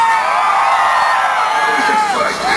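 A dense carnival crowd at Santa María Zolotepec yells and whoops together in one sustained, loud roar that holds steady throughout, with a brief dip near the end.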